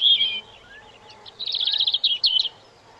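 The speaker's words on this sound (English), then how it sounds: "So this is the robin." A recording of a European robin singing: high, thin warbling phrases and quick twittering notes in two short bursts separated by a pause, clear and alone.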